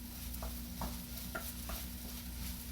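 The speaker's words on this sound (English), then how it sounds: "As the eggs start cooking, just start incorporating the rest of the rice in and stir it around" Egg fried rice is stirred in a sizzling pan, with about five scraping strokes at a loose rhythm over a constant low sizzle. No voices are heard.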